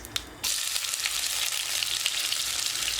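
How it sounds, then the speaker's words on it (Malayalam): Chopped, pitted dates frying in ghee for a chocolate semiya payasam give a steady, close sizzle that starts abruptly after a brief quiet moment and holds evenly throughout, with no voices. "ഇത് നെയ്യിലിട്ടൊന്ന് വറുത്തെടുക്കുക."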